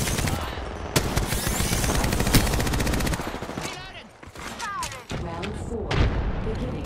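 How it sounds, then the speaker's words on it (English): Rapid automatic gunfire in Apex Legends, loud close bursts with sharp individual shots, brief pauses and renewed firing amid battle effects. "Getting shot at."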